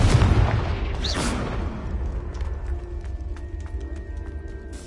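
A Confringo explosive spell goes off in the Hogwarts Legacy video game, a loud booming blast near the start with a crackling burst, then fading rumble and scattered small pops.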